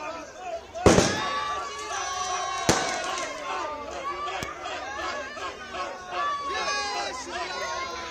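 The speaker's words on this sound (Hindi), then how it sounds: "जहां पर आतिशबाजी की जा रही, पटाखे फोड़े जा रहे हैं और जश्न मनाया जा रहा है।" Fireworks and firecrackers burst at a street celebration outside Rekha Gupta's home in Delhi after she was named the city's new Chief Minister. Three sharp, loud bangs ring out over a constant murmur of crowd noise and chatter.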